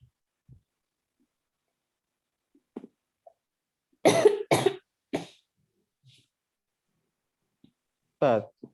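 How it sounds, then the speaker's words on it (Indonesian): Several sharp coughs from one person nearby, a quick cluster of three in the middle and one more near the end, separated by quiet with faint background sounds. "Batuk"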